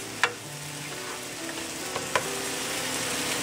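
Chopped onion, ginger and garlic sizzle steadily in a pan, a close continuous frying hiss broken by a couple of sharp utensil clinks.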